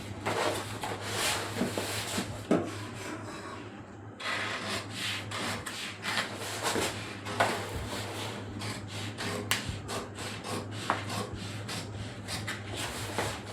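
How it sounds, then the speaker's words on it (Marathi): Scissors cut through a paper pattern laid over blouse fabric, giving a close run of repeated crisp snips and rustling paper with a steady low hum underneath. "पेपर घेऊन आपण ब्लाऊज पीस कापणार आहोत."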